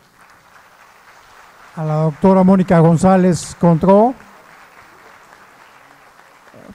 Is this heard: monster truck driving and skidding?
no